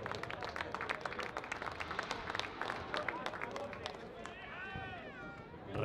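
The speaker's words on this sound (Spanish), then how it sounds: "el fuerte aplauso para los campeones de la serie mixta," A crowd at a Chilean rodeo event claps for the mixed-series champions, with a steady patter of applause under an announcer's amplified voice, fading toward the end.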